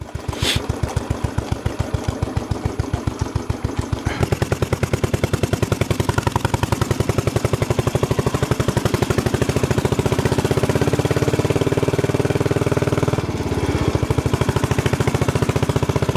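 A close engine with running issues, chugging in rapid, even firing pulses at idle, then revving up with the beat quickening and pitch rising before settling again, alone without talk.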